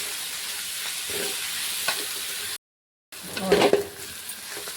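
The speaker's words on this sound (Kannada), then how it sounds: "ಇದು ಒಂದು ಸ್ವಲ್ಪ ಎಣ್ಣೆಗೆ ಪಾಲಕ್ ಫ್ರೈ ಅಲ್ರಿ" Spinach fries in a little oil for palak egg rice, with a soft, steady sizzle and hiss, a brief silent break, then a louder burst of stirring and pan clatter.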